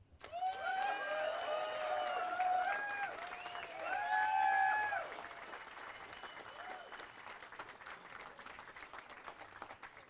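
An arena audience claps for the champion at the 2019 Predator World 10-Ball pool final, a sustained, moderately distant applause with some cheering, while someone speaks over the first half before the clapping continues alone.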